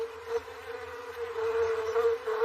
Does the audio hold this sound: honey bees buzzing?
yes